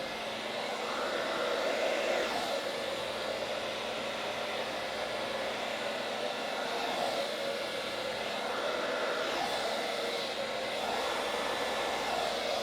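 A hair dryer on a hot setting blows over alcohol ink on a gold metallic canvas, a steady close whooshing roar that runs unbroken throughout with no voices.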